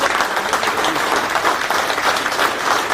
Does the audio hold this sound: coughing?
no